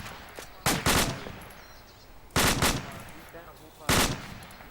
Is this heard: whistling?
no